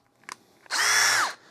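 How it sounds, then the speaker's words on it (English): A compact DeWalt DCD677D2 brushless drill spins up close by for about half a second at a steady high whine, then stops, after a few light clicks of handling. "Next we got a drill."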